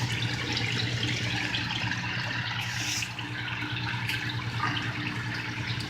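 Water rushes steadily through an aquarium return line on a 450-gallon reef system, a continuous close, hissing splash with a low hum underneath and no voices.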